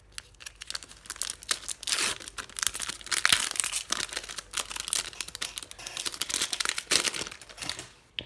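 A Pokémon Fates Collide booster pack wrapper torn open up close, a steady stretch of crinkling foil and ripping with sharp crackles throughout, fairly loud with no talk.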